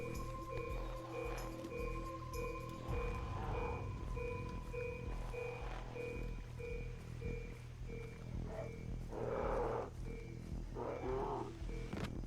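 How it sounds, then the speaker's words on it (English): A steady, repeating electronic beep from a tracking signal in the video game Far Cry 3 pulses evenly throughout, with growls and rumbling game sounds underneath and in the background. "This is definitely beeping a lot more when I head towards these."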